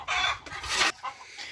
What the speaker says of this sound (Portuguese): tem as galinhas aqui, elas estão gritando ali, mas é normal